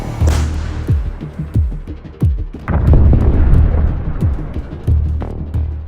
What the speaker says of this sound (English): Russian artillery continues to shell Ukrainian positions